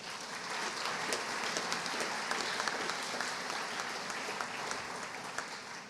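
Steady applause from the audience at a 4-H awards of excellence ceremony for youth winners, dense and continuous across the whole stretch with no talk over it.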